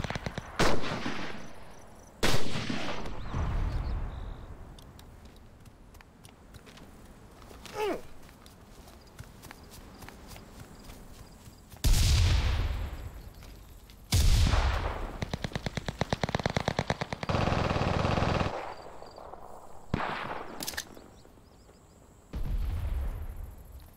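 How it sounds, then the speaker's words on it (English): Rifle gunfire in a video game, several loud bursts of rapid shots and single cracks separated by quieter stretches, close and sharp, with no talk over them. "I think he's shooting at you."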